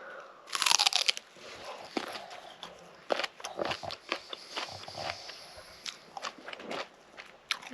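Someone bites into a freshly picked raw salad turnip from a spring garden, one loud crisp crunch followed by several seconds of wet close-up chewing, with no talking.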